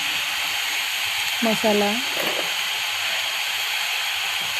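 Salt, turmeric and red chili powder sizzle steadily as they sauté in a pan with cabbage for rice. A bright, even frying hiss runs throughout, with a brief spoken word partway through.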